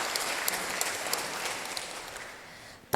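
A church congregation applauds during a Wednesday worship sermon, a dense wash of many hands clapping steadily before thinning out and fading near the end.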